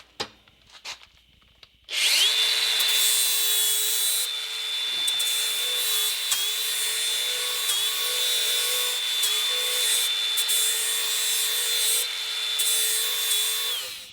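Meg-Mo mower blades are sharpened on a power grinder, a steady, loud, high-pitched whine of metal on abrasive that runs continuously after a brief startup, with slight dips as the blade shifts position.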